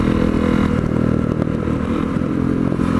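Honda CRF250L dirt bike fitted with an FMF aftermarket exhaust pipe, its engine running loud and close in a steady, continuous drone with a slight rise in revs.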